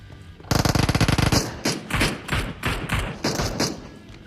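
Gunfire in the PUBG Mobile battle royale game: a loud, close rapid-fire burst of automatic shots, then a string of slower, spaced single shots.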